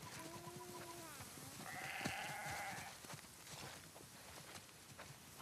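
Several sheep in The Last of Us Part II bleat in short, wavering cries, one after another, over a soft background of shuffling and light hoof taps.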